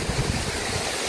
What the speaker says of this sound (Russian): Тут водопад.